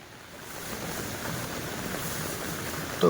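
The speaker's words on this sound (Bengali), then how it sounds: "তো ভীষণ জোরে বৃষ্টি হচ্ছে" Heavy rain falls during a trek to the double-decker root bridge, a steady broad wash of noise that swells a little and stays strong, with a brief bump of handling noise at the very end.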